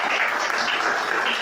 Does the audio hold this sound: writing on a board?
no